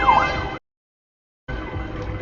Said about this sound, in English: very soon in a second he's about to pull over because there's a police car coming